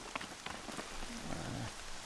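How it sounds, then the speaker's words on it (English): Rain falls in the Horizon Zero Dawn game world, a steady hiss of drops spread across the whole stretch with no talk over it. "Suddenly fog appearing, or rain."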